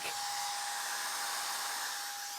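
A steady, loud whooshing whir of a Dyson Hushjet Mini Cool fan running at full speed close by, constant airflow noise with a faint high motor whine.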